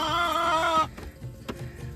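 Chickens clucking loudly in a backyard coop, a strident harmonic squawk followed by softer scattered clucks and rustling, close and with no talking.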